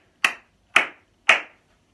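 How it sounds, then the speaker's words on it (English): Three sharp hand claps in an even, steady rhythm, each crisp and close with a quick decay, separated by clean silence. "you can clap your partner a rhythm"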